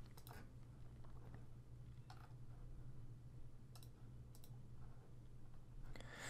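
Light computer mouse clicks while browsing a website, a handful of soft, separate ticks spread across a quiet background hum with no speech.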